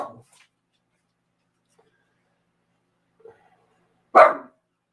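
One sharp, close bark from a dog near the end, after a near-silent stretch with a faint bark-like sound at the start.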